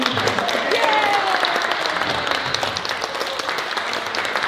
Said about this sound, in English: Last round of applause for everyone.